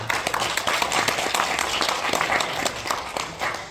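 A seminar audience in Korea breaks into warm applause, a close, dense patter of many hands clapping continuously with slight swells in intensity.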